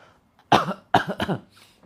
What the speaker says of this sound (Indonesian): Tarik atas, batuk-batukan.